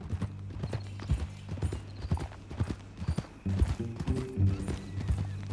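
Horse hooves clip-clop in a steady walking rhythm, close and clear, with a low mechanical hum and creaking beneath, in the video game Red Dead Redemption 2.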